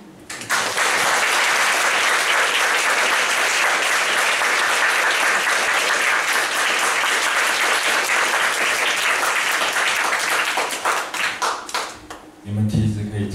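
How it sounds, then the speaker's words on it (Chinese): Sustained audience applause fills the room after a talk on historical memory and democracy, loud and steady for about eleven seconds before thinning into scattered claps near the end. "你们其实可以继续拍手，没关系"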